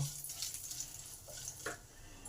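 Cumin seeds fry in hot oil in a pan with a faint, steady sizzle and a couple of light stirring scrapes near the end.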